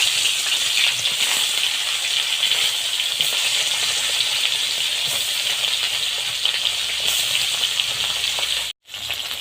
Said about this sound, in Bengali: দেখুন আমার তেলটা গরম হয়ে গেছে। এবার আমি মাছটা ছেড়ে দেব।